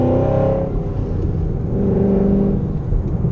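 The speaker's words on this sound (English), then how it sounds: "Whenever you can comfortably blip the throttle, just like that" Manual car engine revving in a quick throttle blip during a downshift, rising and falling as one loud, close burst, then settling into a steady engine rumble.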